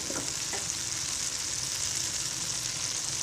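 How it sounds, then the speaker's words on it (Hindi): Tomato puree sautés in a pan with a steady, even frying hiss, a couple of brief utensil knocks near the start, close and moderately quiet. "ये देखें हमने टमाटरों की प्यूरी इसमें डाल के अब अच्छी तरह हमने भूनना है"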